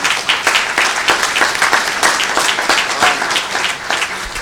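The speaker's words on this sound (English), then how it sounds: "Very good. Round of applause." Audience at a university panel on state finances breaks into applause, a dense steady patter of many hands clapping throughout, fairly loud and close with no talking over it.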